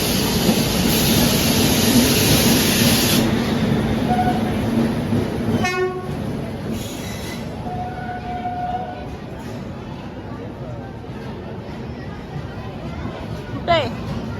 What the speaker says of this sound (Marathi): ही ट्रेन आम्हाला पोचवेल का आता?